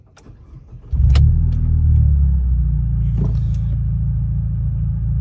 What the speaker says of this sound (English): So I will start the car,